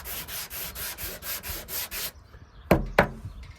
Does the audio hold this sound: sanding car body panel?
yes